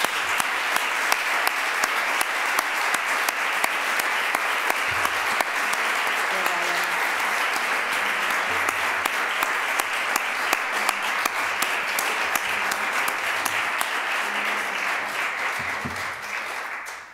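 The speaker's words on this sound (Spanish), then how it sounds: "yo creo que le vamos a dar un aplauso antes de pasar a las preguntas" Sustained audience applause after a Spanish-language literary talk, steady and dense for the whole stretch with a few sharper claps standing out, faint voices murmuring underneath.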